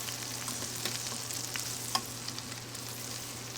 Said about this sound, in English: Put them right in my pan with the warm butter.